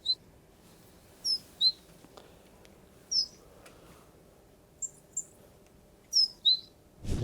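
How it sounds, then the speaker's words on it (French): A starling and a robin, heard from a neighbouring garden, give short, high, thin chirps in scattered pairs, faint and distant over quiet background hum. "Il y a un étourneau et un rouge-gorge"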